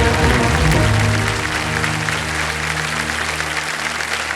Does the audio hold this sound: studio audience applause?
yes